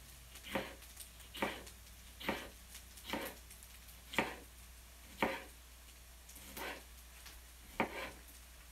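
A knife chops through jalapeno on a cutting board while making tempeh soft tacos, giving about eight crisp, evenly spaced strikes up close with quiet pauses between and no talking.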